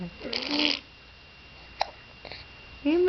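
A baby gives a single short, sharp hiccup between stretches of an adult's soft, cooing talk.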